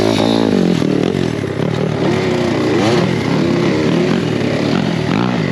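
A motocross bike ridden over a sandy patch at a hidden off-road spot, its engine rasping loud and close as it revs and bogs, with gritty scraping and clatter running under it the whole time.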